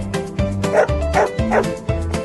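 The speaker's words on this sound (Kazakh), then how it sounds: "Дұрыс, бұл ит." A dog gives five quick, evenly spaced barks and yips, close and clear, in a bouncy rhythm.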